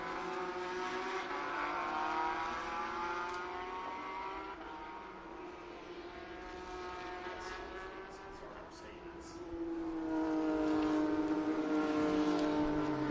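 International GT Sprint race cars, including a Lamborghini and a Mercedes, race at Barber Motorsports Park, engines droning and rising as cars pass and accelerate, moderately distant with pitch sweeping upward near the end.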